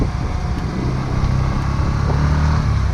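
A 125cc Pulsar motorcycle engine drones steadily and loud as it accelerates on a winter mountain road, with a continuous rumble and wind noise, no speech.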